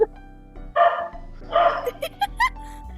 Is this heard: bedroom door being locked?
no